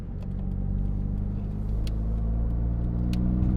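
A turbocharged 4-cylinder engine in a Nissan Pulsar GTi-R idles, giving a steady, gruff, low rumble that stays even throughout with faint clicks on top and no speech.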